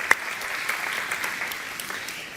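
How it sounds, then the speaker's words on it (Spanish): A church audience claps together in a short burst of applause, steady and moderately close, fading slightly toward the end. "pero primero le demos un fuerte aplauso"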